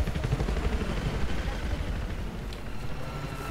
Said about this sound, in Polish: Śmigłowiec.